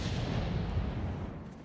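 A self-propelled artillery gun fires blind in a tank battle game, giving one deep, rumbling boom that swells and slowly decays, loud and close, with no voices.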